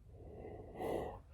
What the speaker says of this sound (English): stop yawning